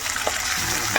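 Mutton liver sizzling and frying in hot oil with browned onions, a steady close crackle running throughout with a few brief stirring scrapes and no talk.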